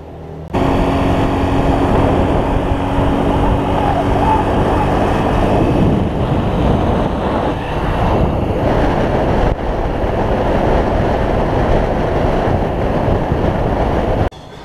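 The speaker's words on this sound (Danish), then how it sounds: "Så er vi lige lidt længere på scooteren" Steady engine and wind roar from riding a motor scooter on a road in Malaysia, loud and continuous throughout with no talking.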